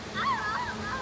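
Child playing with water in a pool during a stay in Hua Hin, Thailand, with light splashing and sloshing. A nearby voice talks over it throughout.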